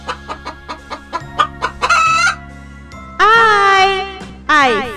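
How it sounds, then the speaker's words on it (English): Farmyard hen clucking in a quick rhythmic series, followed by a rooster's loud crowing calls, close and clear with a steady background tone and no talking. "H for hen. Hen means murgi."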